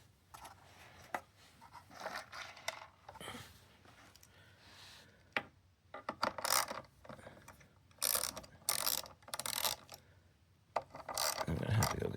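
A wrench ratchets in short irregular bursts while a motor is removed from an 80s-era Dakar-style Corvette, with clicking, scraping and clunking close by at low overall volume.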